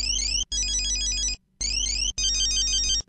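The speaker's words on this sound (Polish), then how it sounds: "Śmieszny dzwoneczek.mp3." Funny phone ringtone mp3 playing, bright warbling electronic beeps in repeated bursts with short gaps between them, loud and alone.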